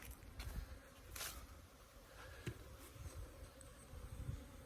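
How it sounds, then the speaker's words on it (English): Honeybees fly around their hives outdoors, a soft continuous buzzing hum with individual insects droning past close by, and no one speaking. "There's a lot of bees out pooping."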